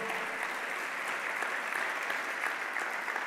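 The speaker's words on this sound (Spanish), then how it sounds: "dale un aplauso al Señor." A church congregation claps steadily, a dense, even wash of applause from many hands throughout, moderately loud with no voices standing out.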